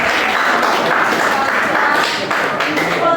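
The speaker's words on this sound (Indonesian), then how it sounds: "Tepuk tangan dulu." Classroom applause, a loud burst of children clapping together in a steady patter with voices mixed in.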